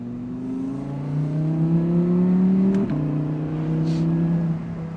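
Audi R8 V10 Performance Spyder with a 5.2-liter naturally aspirated V10 heard from inside the cabin, the engine note climbing steadily under acceleration, a short shift dip, then pulling again, fairly close and continuous.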